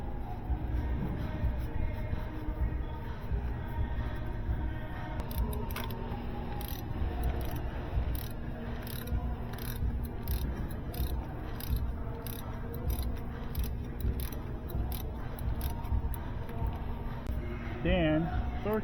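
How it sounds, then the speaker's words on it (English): Torque wrench tightening the oil filter on a 2023 Kia Sportage Hybrid 1.6 T-GDI during an oil change, giving repeated ratcheting clicks close by over a steady background hum. "Then torque this filter to spec."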